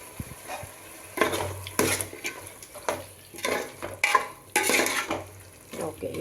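A spoon stirs chicken biryani in a pot, irregular scraping strokes against the metal over a soft sizzle, close and fairly loud.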